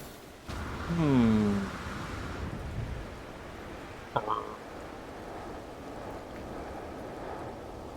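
Thunderstorm in the No Man's Sky video game: steady rain-like wash with a low rolling rumble and a sharp crack partway through, with a whistling tone early on and a voice faintly present.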